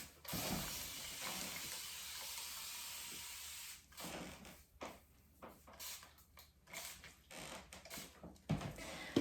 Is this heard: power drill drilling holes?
no